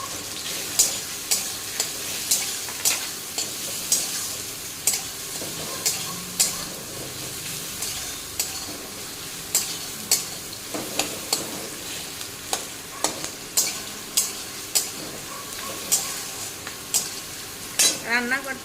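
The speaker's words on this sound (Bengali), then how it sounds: "তেজপাতা পেঁয়াজ আর টমেটো দিয়ে দিলাম একটু বেজে নেই" Bay leaf, onion and tomato fry in a pan with a continuous soft sizzle, punctuated by regular sharp clinks of a metal spatula striking the pan roughly every second, close up and without speech.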